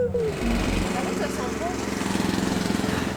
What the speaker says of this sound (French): on s'est fait déloger par les tondeuses